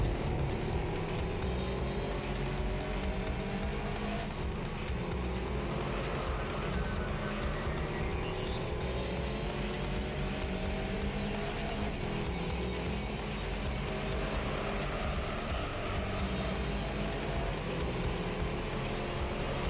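Volkswagen Beetle race cars in Gran Turismo 3 drone steadily as their engines rev through a race, a continuous loud motor whine with shifting pitch and no speech over it.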